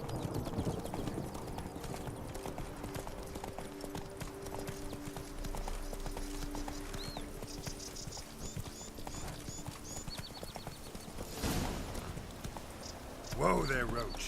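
Hooves of the horse Roach clip-clop at a brisk pace in The Witcher: Blood and Wine game, steady rhythmic thuds under ambient sound, with a brief snort or whinny near the end.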